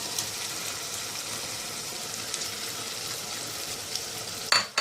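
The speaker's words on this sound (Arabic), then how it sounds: "بعد كده هنضيف له عصير الطماطم بتاعنا" Tomato juice hits a hot pan of green beans, setting off a steady, close frying sizzle that holds throughout, with a couple of brief clinks near the end.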